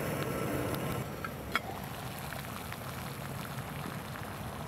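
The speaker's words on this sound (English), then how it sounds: "we know this is at a rolling boil now" Water at a rolling boil in a pot on an Emberlit stainless steel wood stove makes a quiet, steady bubbling hiss, with one brief clink partway through and no voices.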